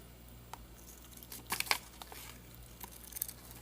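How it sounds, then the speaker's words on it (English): Scissors cut open a plastic bag of pure cane sugar, with a few crisp crinkling snips close by, two sharp bursts in the middle and a softer one near the end, otherwise quiet. "Make sure you put your scissors correctly. Then you just cut around it"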